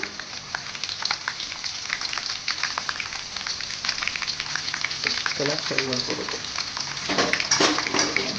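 Dried red and green chillies frying in a pan for avalakki uppittu give a steady, fairly loud sizzle with crackling pops, building toward the end.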